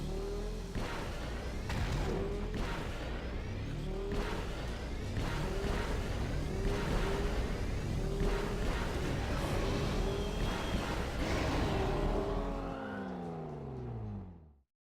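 Swoop bikes race in Knights of the Old Republic, their engines droning and whooshing continuously for about twelve seconds with rising and falling pitch sweeps, then quickly fading out.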